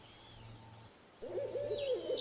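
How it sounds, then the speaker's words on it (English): Owl-like hoots and bird calls ring out in the Empyrion Galactic Survival game world, soft low hooting first, then a brief pause and a louder warbling call with thin high chirps. "Those bird sounds must be foul."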